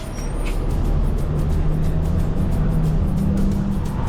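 Inside a city bus in Juneau, Alaska, a steady low engine drone and road rumble fill the ride continuously, with a faint hiss near the start and no talking.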